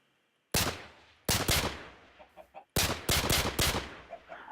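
Gunfire in the Minecraft video game: a single loud shot, then a pair, then a rapid cluster of four, with short chicken clucks popping up in the gaps between the bursts.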